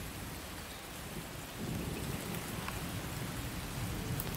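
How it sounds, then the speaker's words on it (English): Steady rain hisses down without a break, growing a little heavier partway through, with a soft low rumble beneath it. "It's raining."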